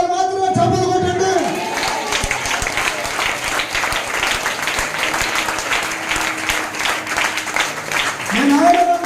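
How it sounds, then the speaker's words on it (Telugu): An audience clapping, a sustained wash of applause from a crowd that lasts several seconds, with a voice speaking at the start and again at the end. "రావాలన్న వారు మాత్రమే చప్పట్లు కొట్టండి."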